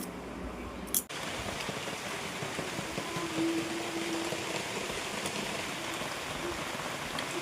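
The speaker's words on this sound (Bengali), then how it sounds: "বৃষ্টি পড়তে আরম্ভ হয়ে গেছে" Rain begins falling at a home, a steady broadband patter of drops on surfaces that holds evenly throughout after a brief sharp knock near the start, with no talking.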